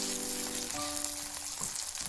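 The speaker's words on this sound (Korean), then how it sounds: "겉면의 반죽이 약간 익으면 전을 뒤집고" Korean jeon pancake in a pan sizzling loudly throughout, with a soft scrape and thump as it is turned over partway through, no talking.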